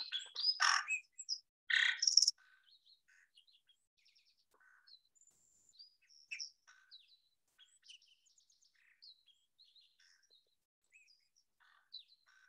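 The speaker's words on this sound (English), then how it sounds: "here's a lark sparrow song" Lark sparrow song: two loud bursts of bird song open, followed by a scatter of faint, varied chirps and short phrases that never quite repeat, with quiet gaps between.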